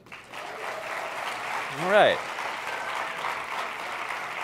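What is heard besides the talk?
audience applause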